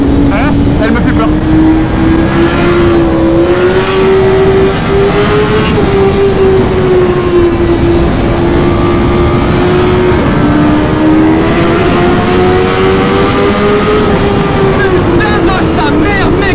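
A tuned 2023 BMW S1000RR motorcycle with 240 hp screams loudly at high rpm under hard riding, its engine tone rising and falling continuously with wind roar, while a rider talks over it.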